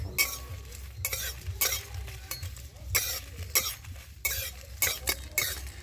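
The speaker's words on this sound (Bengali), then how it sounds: "কড়াইতে দিয়ে দেবো তিনটে তেজপাতা আর চার পাঁচটা শুকনো লঙ্কা এবার এইগুলোকে আমি একটু ভেজে নেব" Bay leaves and dried red chillies fry in a wok with a crackling sizzle, punctuated by repeated bursts of scraping and stirring against the pan at a close, moderate level, with no speech.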